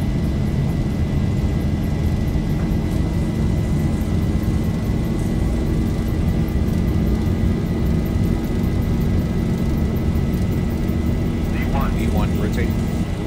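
Boeing airliner engines run at takeoff power in X-Plane 11 with a loud, continuous roar and a steady high whine on top. A faint chirping flutter rises near the end.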